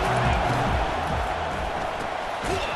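Steady roar of a stadium crowd in the EA CFB 25 college football video game, loud and unbroken throughout with a broad, washy texture.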